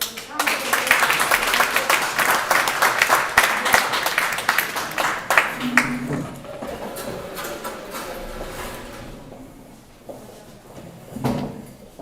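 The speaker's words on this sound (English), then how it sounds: "Let's also give an hand applause to Abigail team." A congregation at an international prayer meeting applauds a team, dense clapping for about six seconds that then thins out, leaving quieter room sounds and voices.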